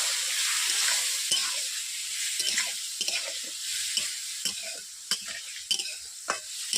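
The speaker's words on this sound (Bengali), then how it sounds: "জল দেওয়ার পর এভাবে আমি একটু নেড়ে নিয়েছি।" Vegetables, cauliflower and kohlrabi, are stirred in a wok right after a splash of water goes in: a steady close sizzle with repeated scraping and tapping strokes of the spatula, no voices.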